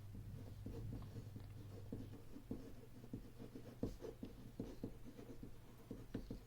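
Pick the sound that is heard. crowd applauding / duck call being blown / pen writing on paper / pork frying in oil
pen writing on paper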